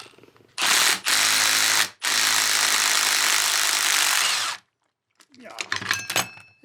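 A power tool on a VW GTI's coilover spring nut rattles loud and close in two long bursts with a brief pause between, then stops, followed by short clinks and handling noises.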